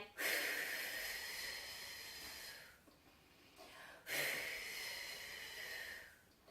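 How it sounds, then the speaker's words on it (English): An instructor takes two long, audible breaths in, each a close, hissing airy inhale lasting a couple of seconds, separated by a short quiet pause, as preparation before a squat. "So you're going to breathe in"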